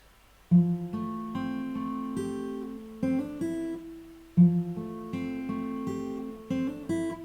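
Measures 7 and 8 of a song fingerpicked on acoustic guitar, a slow melodic phrase of plucked notes over ringing bass played twice, close and clean with no talking.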